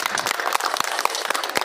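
A short burst of applause from a crowd at an outdoor memorial cultural event, dense and steady clapping throughout.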